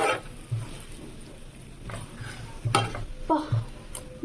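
Ground spices frying in hot oil for a chicken pickle, a soft crackle broken by uneven scrapes and knocks of a spoon stirring the pan.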